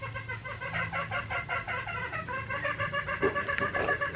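Green junglefowl with a respiratory illness making repeated snoring, rattling krok breaths in a steady pulsing rhythm, close and fairly quiet, with a couple of louder clucks near the end.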